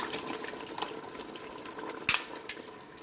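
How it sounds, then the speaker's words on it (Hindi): Mutton badami korma sizzles softly in a pan as yogurt is stirred in, a low bubbling hiss with scattered wet clinks and one sharp spoon knock near the end, no voices. "दो से 3 मिनट पकाने के बाद, इसको भूनने के बाद अब इसमें हम दही ऐड कर देंगे"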